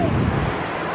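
Sea water and waves wash around a small tide island as the tide comes in, with steady wind buffeting the microphone; a brief, continuous rushing roar without a break.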